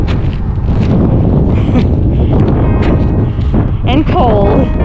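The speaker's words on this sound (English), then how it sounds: "It's very windy out here." Strong wind buffets the microphone outdoors on a walk back to a car in cold weather, a loud continuous low roar with gusting rumble throughout and brief faint tonal whistles near the end.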